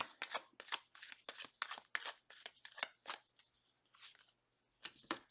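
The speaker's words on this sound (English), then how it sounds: "Last shuffle." A deck of tarot cards being shuffled close up, a rapid series of crisp riffling and slapping bursts with brief pauses between them and no talk.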